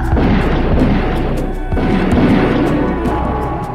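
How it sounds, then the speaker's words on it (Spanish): Gunfire burst and a grenade explosion set off by three attackers in a city, heard as loud, dense, sustained crashing and booming blasts filling the whole stretch with no speech. "una ráfaga de disparos y la explosión de una granada en las manos de 3 asesinos"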